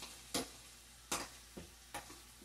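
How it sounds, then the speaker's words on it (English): Three sharp scraping strokes of a utensil stirring vegetables in a hot pan, spaced about a second apart, with a faint sizzle underneath. "since our veggies are already sizzling"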